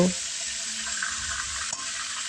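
Potato and pumpkin pieces fry on a high flame, making a continuous close sizzle with a brief stirring scrape near the end.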